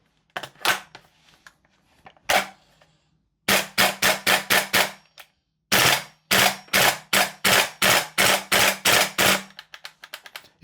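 Guns Modify SCAR L MK2 airsoft gas blowback rifle fired on semi-auto, loud close sharp cracks: a few spaced shots, then two quick rapid bursts of about six and nine shots with brief pauses between.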